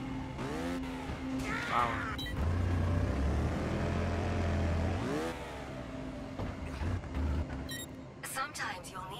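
A motorbike engine in Trials Fusion whines and revs as the bike accelerates up a steep hill, rising and falling in pitch with a few surging bursts, while a voice speaks over it.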